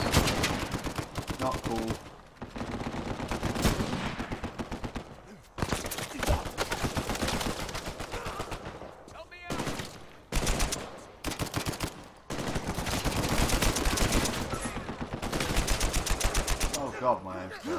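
Sniper and rapid gunfire in a multiplayer match of Uncharted 4 rattle in dense bursts, loud and close, broken by short gaps. A player speaks briefly over the shooting.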